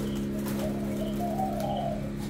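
Thai spotted doves, sold in pairs at a bird dealer's, give a low, steady cooing that hums on continuously at close range with no voices over it.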